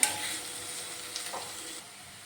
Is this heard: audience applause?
no